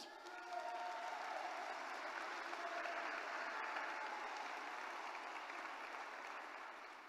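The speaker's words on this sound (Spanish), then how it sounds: "Dale un aplauso a Cristo" A congregation claps in a steady, even wash of applause heard from a distance at low level, with faint cheering and a soft held musical tone early on.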